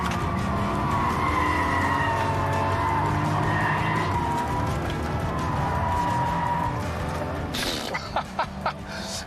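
The loud turbocharged inline-six engine of a Toyota Supra MK4 roars through a long slide with traction control off, tires squealing and skidding with shifting pitch, then a burst of sharp popping noises near the end.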